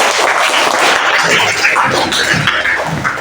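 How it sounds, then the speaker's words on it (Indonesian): Students clap in a classroom after a group finishes, a loud, busy burst of applause mixed with some chatter that tapers off near the end. "Beri tepuk tangan lagi."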